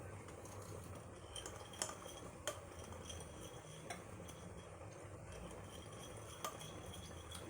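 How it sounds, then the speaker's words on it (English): A utensil stirs melt and pour soap with white powder in a container, giving faint, scattered clinks and taps against the sides over a quiet background. "I'll just mix this together to dissolve the powder, the super white powder"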